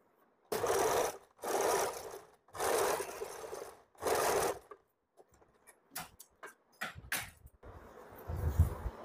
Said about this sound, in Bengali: মেশিনের সুইটা আমার একটুখানি খারাপ হয়ে গেছে, তার জন্য সেলাইগুলো একটু কুচকে যাচ্ছে